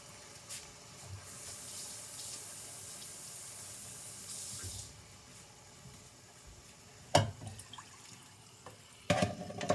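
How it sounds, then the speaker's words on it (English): Water from a tap runs into a tin of crushed tomatoes for a giambotta stew, a steady faint flow for several seconds, then a few sharp clinks and knocks near the end with no talking. "And I'm going to add a little water to the can."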